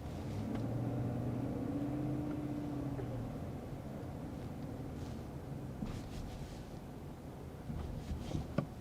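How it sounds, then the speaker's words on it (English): A 2023 Cadillac Escalade rolls over speed bumps with a low, steady cabin rumble, muted and quiet, with a few faint soft thumps late on and no talking. "I'm going to go over some speed bumps here."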